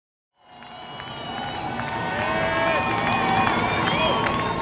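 A large crowd cheers and applauds, rising quickly from silence into a loud, sustained roar with scattered whoops and shouts that builds slightly toward the end.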